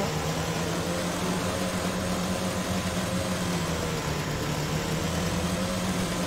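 Aircraft engines idling in a flight simulator at Renton Municipal Airport, a steady loud droning hum with a low tonal whine, unbroken throughout.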